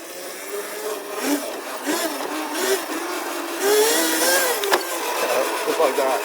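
Custom dual-motor MX650 electric dirt bike riding, a steady high-pitched motor whine rising and falling with throttle, mixed with wind noise and someone talking throughout.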